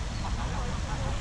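Large ducks, big as small swans, quack close by outdoors in Barcelona, a short burst of rough, nasal calls over steady low rumbling background noise.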